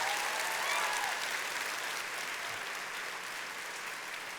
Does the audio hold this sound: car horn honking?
no